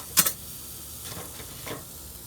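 A 15-day dry-aged ribeye steak sizzles on a grill, a steady faint frying hiss with a sharp crackling pop near the start and a few softer bursts later, with no voices.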